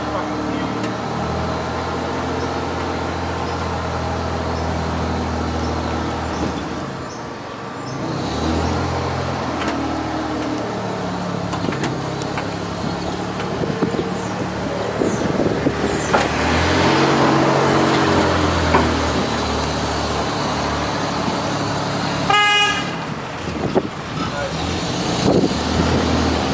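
A half-ton pickup truck towing a 2-ton vehicle gives a continuous engine and road rumble that swells and eases. People talk over it, and a brief higher rattle comes near the end.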